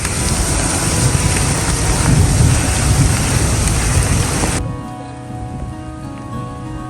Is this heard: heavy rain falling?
yes